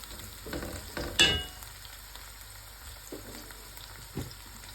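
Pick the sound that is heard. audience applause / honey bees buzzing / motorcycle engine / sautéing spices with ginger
sautéing spices with ginger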